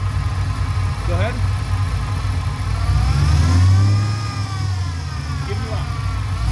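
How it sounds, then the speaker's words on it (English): A Pontiac GTO engine idles with a deep, close rumble, then swells through a single rev that climbs and falls back to idle. "When I tell you, just give it a rev."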